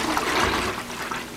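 Living Clay detox clay mixed with water is poured into a gallon jug, giving a brief steady liquid trickle and gurgle at close range with no voices.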